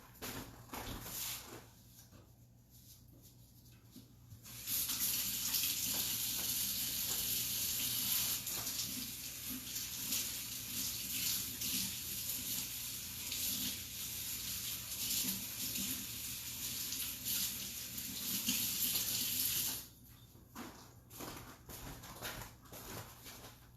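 A bowl is rinsed under a running kitchen tap while making blueberry lemon pie bars, giving a steady, fairly loud broadband rush of water that runs for about fifteen seconds, with quieter kitchen sounds before and after.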